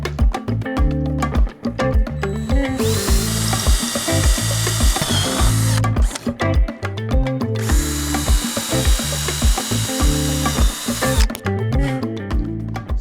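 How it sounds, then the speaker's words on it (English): A power drill with a 1/4 inch masonry bit boring holes into stucco for anchors, loud, close bursts of whining and grinding in two long runs with brief pauses between them. "now we're ready to drill our holes"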